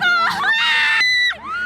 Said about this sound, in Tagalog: Todo sigaw ang fans